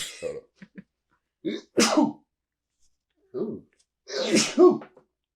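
A single sharp sneeze, then a few soft vocal sounds, with short bursts of voice around it in an otherwise quiet room.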